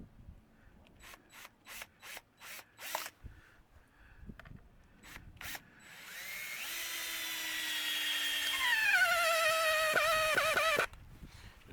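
A power drill with a worn bit drives screws into a wooden wheel crib, opening with a series of short sharp knocks and then a steady rising whir that grinds on for about five seconds before stopping abruptly.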